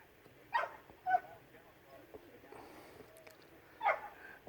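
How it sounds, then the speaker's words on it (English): A distant dog barks at a campground during the Sturgis Motorcycle Rally, three faint, sharp barks spaced apart over low background noise with quiet talk nearby. "The barking coming from that direction."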